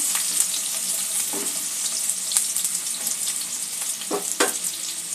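Chopped onion, two onions cut medium, fries in a pan with a steady close sizzle, broken by a few brief scraping and stirring sounds; no one speaks.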